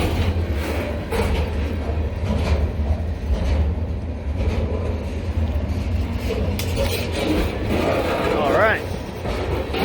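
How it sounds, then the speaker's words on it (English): A long train rumbles past steadily with continuous clattering and rolling noise; a person speaks briefly over it. "Pretty long train."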